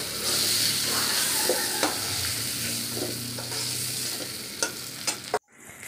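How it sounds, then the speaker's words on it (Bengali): Potato pieces fried in hot oil and stirred, a steady close sizzle broken by sharp scraping clicks of a utensil, ending abruptly in near silence. "নাড়াচাড়া করে ভেজে নিলাম।"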